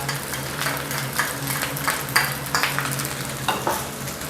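Rice stir-fried over high heat in a wok with light and dark sweet soy sauce, a steady close sizzle broken by repeated scraping and clinks of the spatula against the pan.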